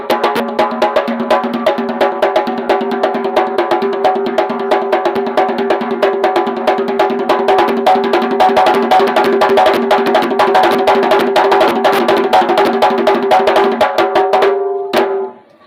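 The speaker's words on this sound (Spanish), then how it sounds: "Y el mapalé suena así." Mapalé drumming from San Basilio de Palenque, Colombia: a loud, fast, steady stream of drum strikes over sustained tonal sound, continuing without pause for about fifteen seconds before cutting off abruptly.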